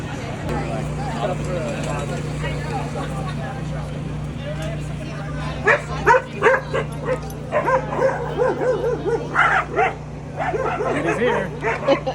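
Several dogs at a dog bar where owners drink beer on a Sunday afternoon, yipping and barking in short bursts, some close and some farther off, over a steady background hum and crowd murmur.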